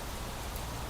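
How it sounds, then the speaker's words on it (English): Steady, even hiss of rain falling in the video game Planet Crafter, a constant wash of noise with no breaks, no voices and no other sounds. "Well, hell, well, it's raining."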